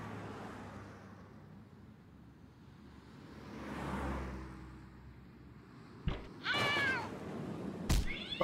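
A cat in the point-and-click video game Randal's Monday meows loudly in two sharp, close cries near the end, after a stretch of quiet, low ambient background hum.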